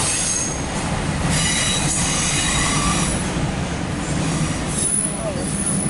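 An empty CSX autorack freight train rolling past, a loud continuous rumble of rail cars with squealing wheels and faint clicking over the rails, close by.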